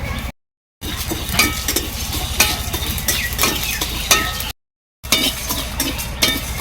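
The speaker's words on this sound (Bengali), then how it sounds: "মশলা আমি হালকা নাড়াচাড়া করে ভেজে নিয়েছি।" Coriander, cumin, black pepper and two dried chillies are stirred and dry-roasted in a pan, with a steady scraping and rattling of seeds, light sizzle and occasional metal clinks, briefly cut to silence twice.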